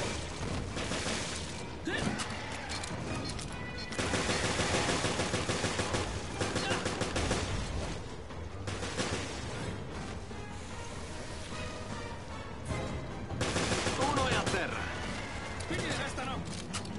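Gunfire in the video game Resident Evil: Revelations, with rapid bursts of shots and heavy impacts repeating through the action, mixed with game effects and music while a player talks over it.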